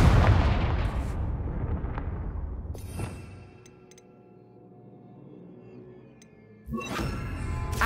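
A fiery explosion spell in Hogwarts Legacy bursts with a loud, deep boom and rumbling roar that fades over a few seconds before a second blast erupts near the end, with no talk over it.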